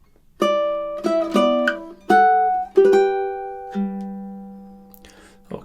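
A ukulele plays measures 15 and 16 of Tárrega's Adelita as a short bouncy run of plucked notes and a few chords, finishing on a held note. It is close and clear with no talking.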